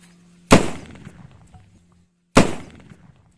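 A homemade PVC gas gun, built to scare animals away from farm fields, fires twice about two seconds apart, each shot a sharp loud bang trailing into a brief rumbling decay.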